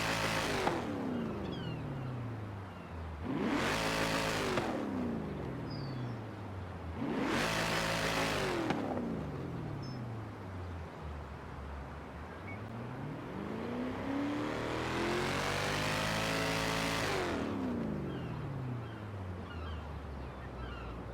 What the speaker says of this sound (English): So right now we're going to go ahead and rev the engine.